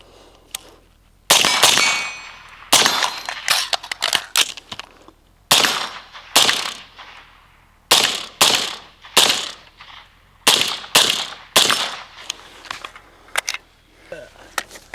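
Gunshots from an MK18 Block II rifle fired outdoors at a range, loud sharp cracks coming singly and in quick pairs and bursts with short gaps between strings, each shot trailing a brief echo.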